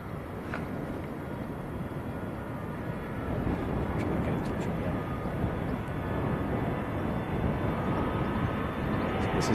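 A steady, rumbling jet roar from a plane landing at Manchester Airport, broad and sustained, building slightly louder midway and continuing without a break, with faint clicks over it.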